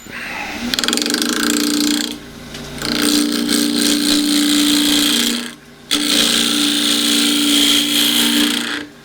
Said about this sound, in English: Right, 1/2 inch spindle gouge for that job.